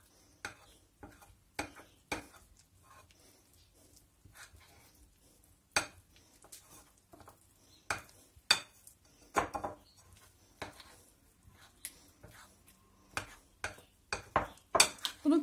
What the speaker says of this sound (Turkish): Şöyle yanlarından alarak karıştırıyorum.